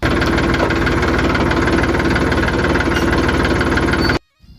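A tractor engine chugs steadily at idle with a rhythmic low knocking throb, close and loud, then stops abruptly.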